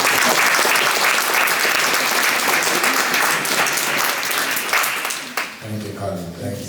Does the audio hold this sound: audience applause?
yes